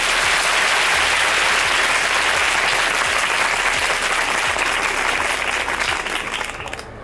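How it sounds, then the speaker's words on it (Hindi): A crowd at a girls' school in Kamlapur claps loudly and continuously for several seconds, the dense applause thinning out and fading near the end. "ज़ोरदार तालियां बजाएं।"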